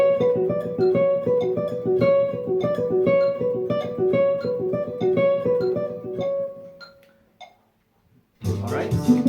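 Jazz guitar plays a repeating lick in a seven-beat rhythm, clean picked notes pulsing steadily for several seconds before fading out, then a brief burst of strumming at the end.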